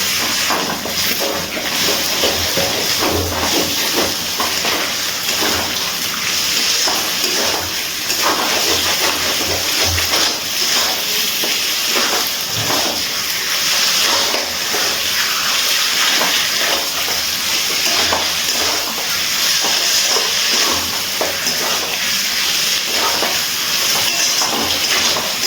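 Mutton curry being sautéed over a high gas flame, a loud continuous hissing sizzle with rattling pan and stirring noises, steady and close for the whole stretch, no talking.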